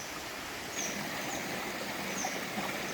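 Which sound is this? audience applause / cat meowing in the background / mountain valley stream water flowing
mountain valley stream water flowing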